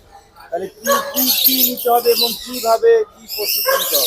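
Lovebirds chirp and squawk up close at a pet fair, shrill bursts coming in quick clusters with brief pauses between.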